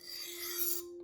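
A knife edge drawn across a Scotch-Brite pad gives one short, dry, high rasping scrape with a steady ringing tone beneath it. It is close and fairly quiet, with no voices.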